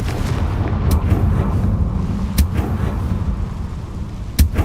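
A Confringo blasting spell is cast in the video game Hogwarts Legacy, giving a few sharp, booming bursts over a dense, rumbling game background, with no voices.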